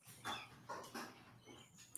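Dogs give a few short, quiet barks and yips, spaced irregularly over a couple of seconds against a faint background hum.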